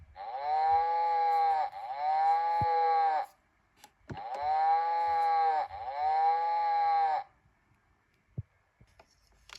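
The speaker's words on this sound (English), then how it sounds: "The cow moos in the barn." A VTech farm animal toy plays a recorded cow moo, two long loud lowing calls in quick succession, a pause, then two more, followed by faint handling clicks.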